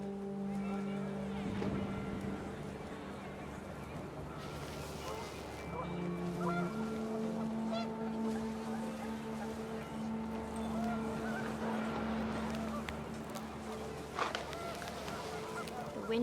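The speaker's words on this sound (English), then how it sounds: "The wind picked up, and panicked geese appeared and quickly went." Panicked geese honk repeatedly in a windy outdoor scene from the game What Remains of Edith Finch, their calls layered over a droning engine-like hum and a narrating voice.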